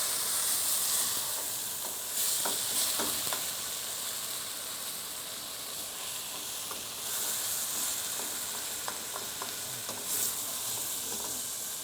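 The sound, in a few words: boar or pork meat sizzling in pan with beer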